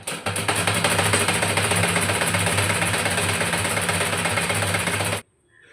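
A sewing machine runs steadily, stitching piping onto a blouse sleeve. It makes a continuous, close, even mechanical whir for about five seconds, then stops abruptly into near silence.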